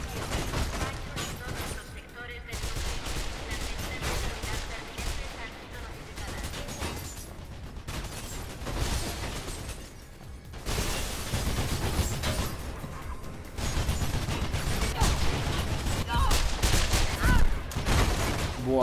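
Gunfire aimed at the player in Mirror's Edge, bursts of shots and rattling fire that come and go over about nineteen seconds, mixed with someone talking over it.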